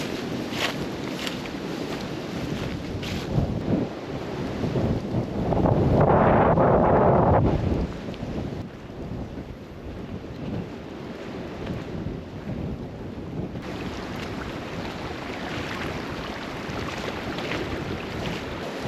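Strong wind roars through a desert canyon on a hiking route, a steady buffeting rush with heavy microphone gusts and a louder surge midway, filling the whole clip with no speech.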